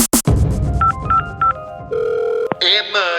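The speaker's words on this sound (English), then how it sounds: "I rang 999 and made an emergency call." A telephone being dialed for an emergency 999 call: a loud dial tone, then three short keypad beeps in a row, a steady line tone, and a brief voice-like tone at the end.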